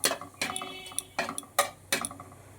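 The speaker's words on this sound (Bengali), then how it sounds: "কালো জিরে ফোড়ন দিলাম আর হাফ শুকনো লঙ্কা দিলাম। এটাকে একটুখানি নেড়ে চেড়ে নেব।" Nigella seeds and half a dried chilli are being tempered in hot oil. A utensil stirs them, giving a few quiet, irregular clinks and scrapes against the pan.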